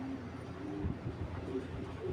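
Racing pigeons, top breeder birds including a clipped-wing female, coo in a low, steady murmur close by, the soft throaty calls overlapping throughout.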